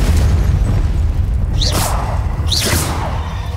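In Hogwarts Legacy, Confringo spells burst in two whooshing fiery explosions about a second apart over a loud, low rumbling background.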